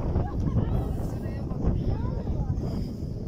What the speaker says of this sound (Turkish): Rüzgar sağlam esiyor.